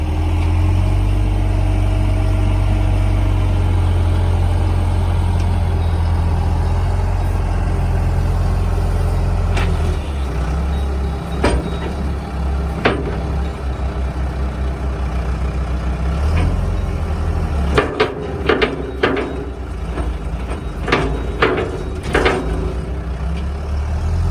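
A heavy diesel payloader idles and rumbles steadily on a dairy farm, then gives scattered clanks and knocks as farm feed mix is dumped into a TMR mixer.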